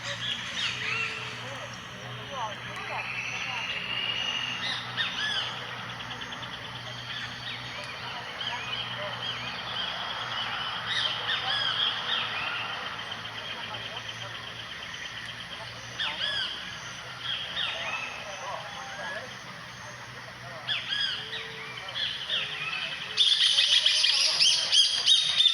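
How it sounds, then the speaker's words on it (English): Early-morning birds chirp and sing in repeated bright calls, fairly close and steady over a low background hum, with a brief louder burst near the end. "because the birds only just started up at like 6:30"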